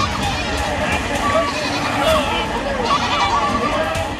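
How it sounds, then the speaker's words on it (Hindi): Hundreds of sheep and goats bleat in a dense, overlapping chorus as herders drive them across a fast-flowing, rain-flooded river in Jalore, Rajasthan, with rushing water and crowd chatter underneath. "सैकड़ों भेड़ बकरियों को लेकर नदी पार करते नजर आए"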